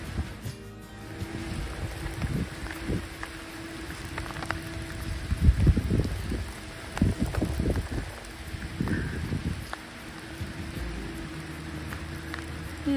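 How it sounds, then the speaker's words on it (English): Rain falls on a windy autumn day in Bergen, a steady patter mixed with gusty wind rumble and irregular low thumps, continuous and fairly loud outdoors. "I walk all the way in the rain to meet you."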